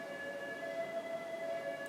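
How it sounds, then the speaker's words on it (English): An ambulance siren wails on a New York City street, a steady tonal whine held at moderate distance with no voices over it. "There's an ambulance."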